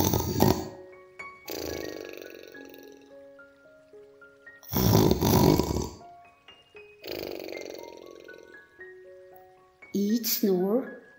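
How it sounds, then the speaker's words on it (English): Loud snoring of a sleeping man, deep rumbling snores in slow repeated bursts, each one heavy and close, with musical tones and narration in a children's bedtime story between them. "Each snore rumbling like thunder."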